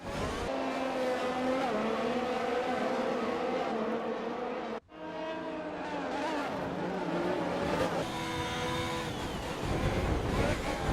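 F1 2021 race cars roaring on track in the Australian round, loud engine whine with a sharp break midway as one car crashes into its teammate, then engines rising again with a high skid squeal.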